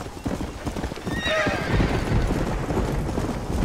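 Horse hooves clip-clop in Red Dead Redemption, with a horse's whinny rising around the middle, all set against steady rain and game ambience.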